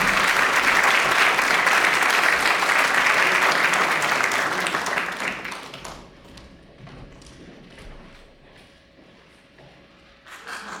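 A concert audience at a dance group's 50th anniversary show claps loudly in a full, dense burst of applause that fades over several seconds into scattered, quieter claps and room noise.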